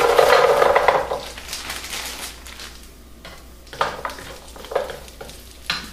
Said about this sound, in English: I have a little olive oil on the bottom here, and I'm going to throw our Brussels sprouts in.